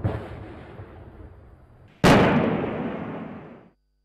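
Two artillery rounds fire, one at the start and a second, louder blast about two seconds later, each with a sharp crack and long rolling echo decaying across open ground.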